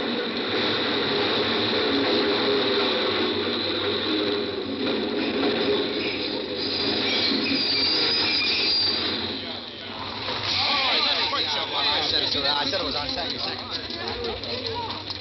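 A subway train rushing into a station in a 1947 radio horror drama: a continuous mechanical clatter and rumble of wheels and gears that rises and swells, with a narrator's voice speaking over it throughout.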